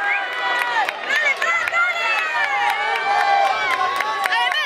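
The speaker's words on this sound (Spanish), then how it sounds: "Recibimos con un fuerte aplauso a los ganadores de la prueba" A crowd cheers and claps at an athletics medal ceremony for the men's triple jump winners at the 2019 National Sports Games, with a steady roar of voices, whoops and scattered applause throughout.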